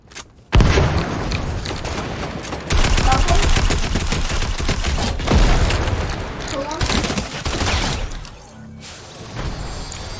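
Rapid automatic AK rifle fire in Fortnite comes in long, loud bursts with sharp cracks and booms, pausing briefly between volleys before a quieter tail.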